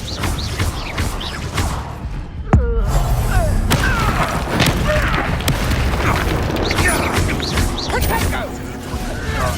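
Fire-spell combat blasts in the Hogwarts Legacy video game, a sharp boom followed by dense crackling impacts and mechanical clatter, with a voice talking over the fight.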